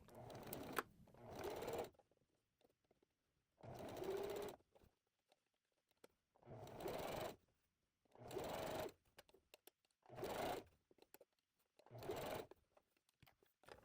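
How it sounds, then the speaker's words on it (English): A sewing machine runs in six separate bursts as it stitches a 3/8 inch seam allowance on a garment, with quiet pauses between runs. The motor whirs steadily and close by. "Then sew with the 3/8 of an inch seam allowance,"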